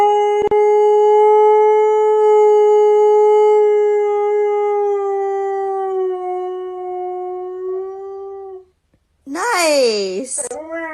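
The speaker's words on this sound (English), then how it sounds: "Hey Google, what do Siberian Huskies sound like? This is a Siberian Husky." Siberian Husky howl played back through a Google Assistant speaker: one long sustained, wavering howl lasting about eight seconds and fading slightly, then after a brief gap a short burst of higher, bending yips and whines.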